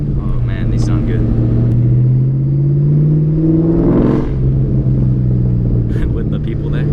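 A supercharged car fitted with a different muffler material revs up and settles, its deep exhaust tone and whirring drone steady and close, with people talking over it.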